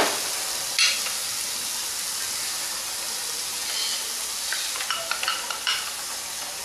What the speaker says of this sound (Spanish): esperamos que se frite